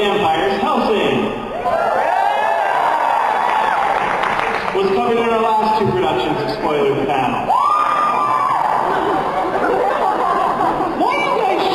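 A convention audience cheers and shouts in a crowded hall, with loud whoops and chatter rising and falling over about twelve seconds while someone talks over the crowd.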